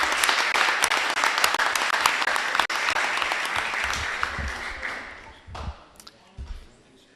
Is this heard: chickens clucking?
no